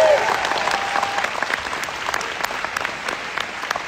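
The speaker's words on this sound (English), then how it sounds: "give them a round of applause." An audience claps steadily at the MyPeakChallenge Gala 2022, a dense, continuous round of applause filling the room from start to finish, with a voice briefly heard over the start.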